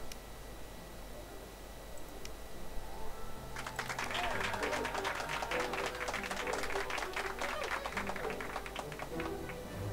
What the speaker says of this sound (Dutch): Ik heb werkelijk geen idee waar dat geklap vandaan komt.